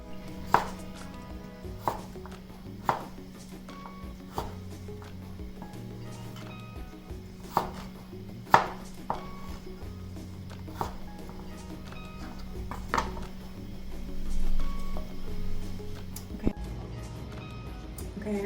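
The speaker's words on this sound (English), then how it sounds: "I'm just going to cut these into spears and throwing them into my bowl" Knife chopping broccoli stalks into spears on a cutting board, a series of sharp, irregular taps spread through the clip over a steady low background hum, close and moderately loud.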